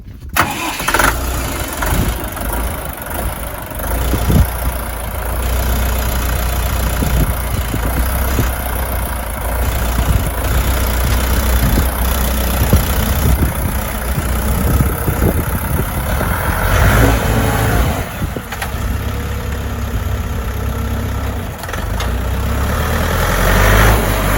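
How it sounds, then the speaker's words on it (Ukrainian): A Dong Feng tractor engine cranks and catches, then runs at a steady rough diesel idle, loud and close, and its pitch rises toward the end as the revs climb. "давайте заведу його слухайте, як він працює"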